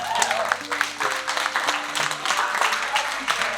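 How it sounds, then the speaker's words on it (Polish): Wedding guests at a traditional Polish wedding clap in a steady burst of applause, with voices talking over and between the claps. "Dajcie brawa dla niej."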